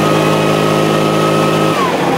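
A 4-stroke 76cc backpack engine blower pushing air: a loud, close, steady engine drone with a whooshing airflow that suddenly drops in pitch and level near the end.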